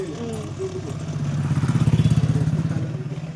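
A motor vehicle engine approaches and passes during a village temple festival, rising into a loud rhythmic chugging pulse before easing slightly; people talk over it.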